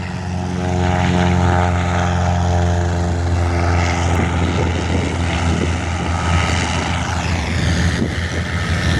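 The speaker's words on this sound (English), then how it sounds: "Off goes the old Air Force trainer" An old Air Force trainer propeller plane takes off, its engine loud and close with a steady droning hum that rises in pitch and roughens as it pulls away, on a windy day at an airfield.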